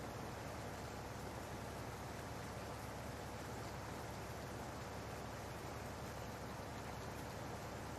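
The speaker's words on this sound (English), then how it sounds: "This rain just does not want to let up." Steady rain falling in the farming game Farming Simulator 19, a constant faint hiss of drops with no change over the whole stretch and no voices.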